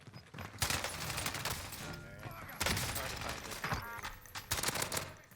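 Rapid bursts of gunfire from a Call of Duty Warzone match, loud, dense volleys of shots at about 0.6, 2.6 and 4.5 seconds over steady game noise.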